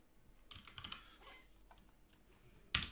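Keys clatter on a computer keyboard in short, quiet bursts of typing, with a louder cluster of strokes near the end and no voices.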